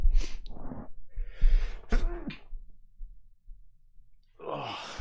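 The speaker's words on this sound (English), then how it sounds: "Oh, big sneeze." A big sneeze from a spectator at a darts event, a sharp explosive burst among breathy gasps and throat sounds, followed by quieter room noise and a rising breath at the end.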